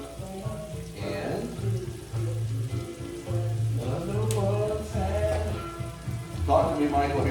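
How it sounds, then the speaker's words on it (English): Mushrooms sauteing in a pan give off a steady crackling sizzle like light rain, with music playing and a voice speaking briefly over the cooking. "I will throw the mushrooms in. We're just gonna saute all the mushrooms in there"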